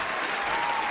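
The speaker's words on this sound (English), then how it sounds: "Let's give him a round of applause" A live audience at a comedy game-show stage event breaks into steady, dense applause, sustained and even for the full second with no pause.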